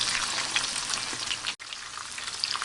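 Shrimp fry in a pan with a dense, even sizzle and crackle at close range, cut off by a very brief break midway.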